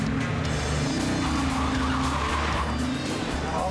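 An Audi Quattro and an Audi A5 launch off the line on a race track, with loud engines revving hard and tires squealing close by for several seconds.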